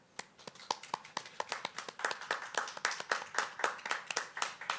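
At a university graduation ceremony, a small audience claps for the graduates, sharp distinct hand claps that begin sparse and build into a fairly quick, uneven rhythm, moderately close and without talk.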